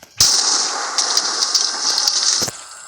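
A loud explosion goes off at a spawn point in a video game, a dense crackling blast that starts suddenly and roars steadily for over two seconds before cutting off, with no talking.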